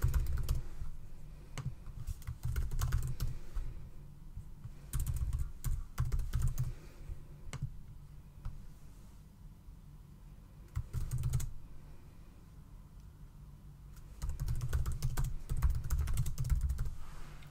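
Keys clatter on a computer keyboard in bursts of quick typing separated by short pauses, recorded close in a quiet room with no speech.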